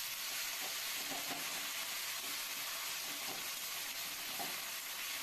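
Brinjal and fish head being stirred together in a pan for a Bengali sukut, with a steady broadband sizzle throughout and soft, intermittent scraping strokes from the stirring, fairly close.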